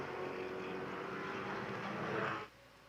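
A road-racing car in an SCCA event roars past a trackside fence at about 175 miles an hour, a steady far-off engine drone that swells and then cuts off sharply as it goes by.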